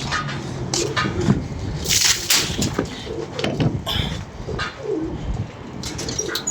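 Pigeons coo in soft repeated low phrases nearby, with a brief flutter of wings and faint chirps, amid outdoor background noise.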